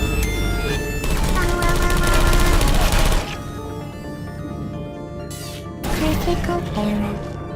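Gunfire from turrets in the Portal 2 video game: loud, dense bursts of rapid shots for about three seconds, a quieter gap, then another burst, all over a steady game soundscape.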